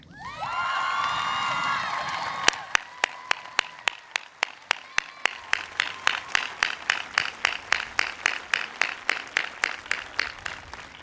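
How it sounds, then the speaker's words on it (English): A commencement audience honoring a retiring high school teacher cheers and whoops for a couple of seconds, then breaks into loud, steady rhythmic clapping with sharp, evenly spaced claps that continue to the end. "Help me recognize, with an applause, Miss Fran Keller."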